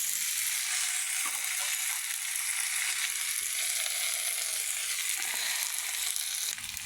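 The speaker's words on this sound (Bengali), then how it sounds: "বাটা মশলাটা দিয়ে ভালো করে নেড়ে ছেড়ে নিয়ে তারপরে ওটা দেবো।" Ground spice paste fries in hot oil in a pan, a loud, dense, continuous sizzle with occasional stirring scrapes, close up and without talk.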